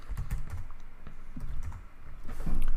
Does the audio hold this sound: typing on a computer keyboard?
yes